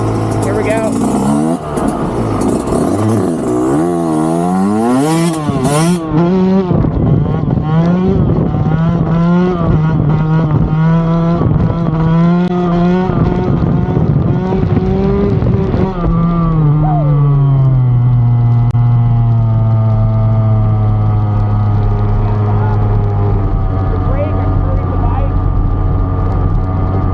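A 4-stroke dirt bike engine revs loud and close through a run of wheelies, its pitch sweeping up and down repeatedly before settling into a steadier held drone.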